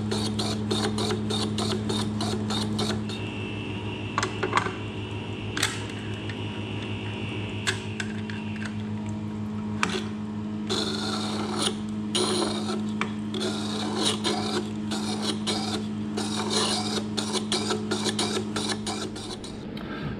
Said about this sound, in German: Jetzt sind wir fertig mit Bohrerschleifen.